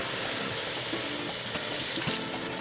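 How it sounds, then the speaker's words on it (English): Vegetable stock pours into a pot of turkey chili with a steady, close splashing and trickling sound that runs throughout the short stretch. A few small clinks and bubbles sit over the flow. "we're gonna mix this around real quick and then add in vegetable stock"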